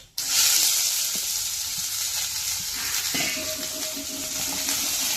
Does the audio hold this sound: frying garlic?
yes